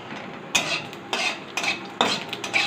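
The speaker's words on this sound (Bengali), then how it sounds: "কড়াইতে একটু তেল, জিরে" A spatula scrapes a wok in four rhythmic, close strokes as cumin and dried chili fry in a little oil.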